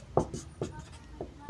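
Pen or chalk strokes writing a definition during a class, a few short scratchy bursts with quiet gaps between them, close and fairly soft.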